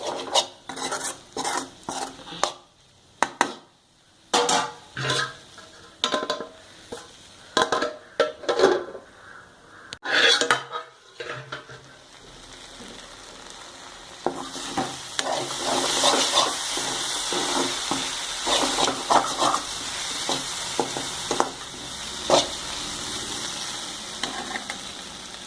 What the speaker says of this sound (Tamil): இது மாதிரி திறந்து கொஞ்சம் அடிக்கடி கிளறி வச்சுக்கணும்.